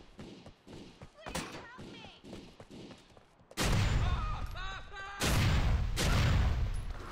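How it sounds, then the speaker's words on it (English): Explosions in the video game GTA 4 hit as two loud, heavy booming blasts about a second and a half apart, each with a long rumbling tail, after a stretch of quieter game noise. "I think I hear an explosion."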